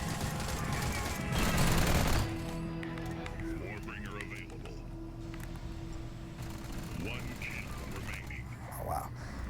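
Gunfire in the shooter game Hybrid: a dense burst of rapid shots at the start, then sparser game effects and a sustained electronic tone, with someone talking over it throughout.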